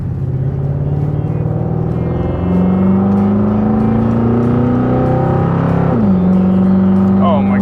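A car with a Quadrajet carburetor on a 1-inch spacer accelerating hard. Its engine drone rises steadily in pitch, then drops sharply as the transmission downshifts and climbs again, loud and close from inside the car.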